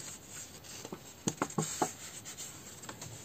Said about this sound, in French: Donc, pour ça, on va utiliser un crayon à une règle.